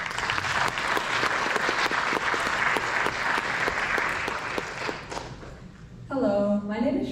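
An audience applauds warmly at an Arangetram dance debut to welcome the master of ceremonies. The dense, sustained clapping fills the room, then tapers off before a single voice begins speaking.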